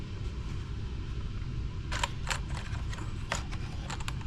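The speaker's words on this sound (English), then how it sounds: "I use a collet bullet puller." A collet bullet puller pulls bullets from 6.5x55 blank cartridges, giving a few faint, sharp metallic clicks spaced irregularly over a steady low background hum.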